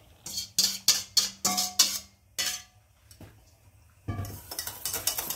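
Thick cream custard being poured from a bowl back into a saucepan, heard as a run of sharp rhythmic scraping clinks against the pan, a pause, then a denser clattering stretch at close range.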